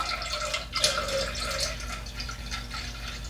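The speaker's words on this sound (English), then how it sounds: "Just pour as slowly as I can here." Homemade short mead poured slowly from a bucket, a gentle continuous trickle and splash of liquid with small drips, close and moderately quiet.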